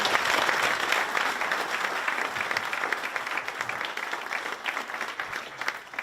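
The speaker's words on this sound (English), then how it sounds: "Can we do an applause for Jeff first of all?" Audience applause after a conference talk at a developer event, dense sustained clapping from a crowd that holds steady and tapers slightly over six seconds, no speech.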